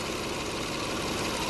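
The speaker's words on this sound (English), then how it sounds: "I can hear the engine drop already and it's misfiring worse." Toyota Kluger V6 engine idles roughly while misfiring, a steady dense mechanical drone with uneven knocking pulses, heard close and alone without talk.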